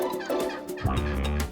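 Chickens in a farm chicken pen clucking and squawking close by, a busy overlapping stretch of fowl calls with a louder burst partway through.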